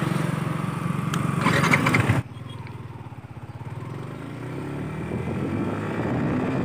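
A Yamaha R15 V4 motorcycle accelerates hard, with a loud rising engine buzz that cuts abruptly at a quickshifter gear change and then pulls again with a steady throbbing drone.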